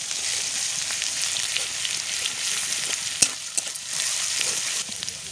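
Garlic paste and garam masala sizzle hard in a pan, a dense steady frying hiss with a few sharp spoon clicks against the pan, no talking.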